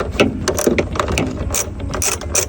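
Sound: ratchet removing headlight bolts on a Suzuki DA16T Multicab

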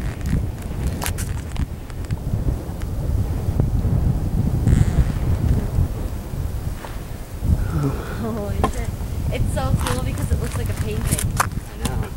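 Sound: strong wind at a Catskill Mountains lookout

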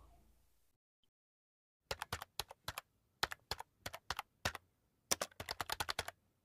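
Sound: typing on a computer keyboard

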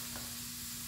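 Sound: bacon and onions frying in pan

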